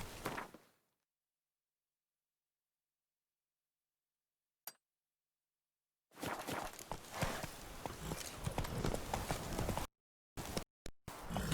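Horse hooves in The Witcher 3 game clop along at a walk with faint tack clinks. The sound comes in separate bursts with stretches of silence between them, moderately close, and no voices.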